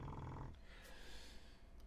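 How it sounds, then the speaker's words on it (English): Snoring from a sleeping animal lying nearby during a home studio live stream, heard as a few low, rough breathy snorts, faint and close, with no talk over it. "She is snoring like crazy down there."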